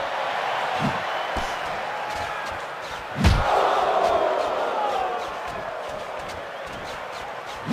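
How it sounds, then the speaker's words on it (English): Arena crowd noise at a boxing match between Diego Corrales and Oscar De La Hoya, a steady roar with a loud swell and thud midway, while a commentator talks over it. "The crowd is starting to get into things here"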